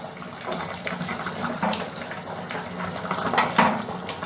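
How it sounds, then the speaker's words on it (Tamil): Kuzhambu curry simmering in a pot, a steady bubbling, gurgling liquid sound with soft pops, fairly close and continuous without talk. "இது இன்னும் 2 மினிட்ஸ் கொதிச்சதுன்னா குழம்பு ரெடி ஆயிடும்."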